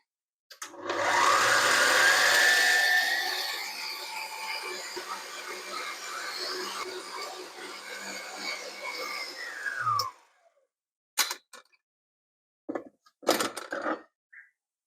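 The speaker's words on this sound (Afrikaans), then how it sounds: "Nou sit ek my klitser bietjie vinnig, laat hy hom net so bietjie verroom." An electric hand mixer whirs steadily at high speed, creaming margarine, sugar and egg in a bowl, loud at first then settling before cutting off, followed by a few short clatters.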